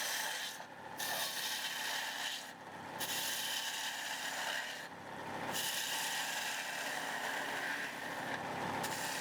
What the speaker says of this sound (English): I use the spindle gouge to rough out as much as I need to